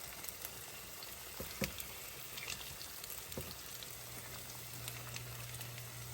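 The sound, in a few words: hot water cornbread frying in oil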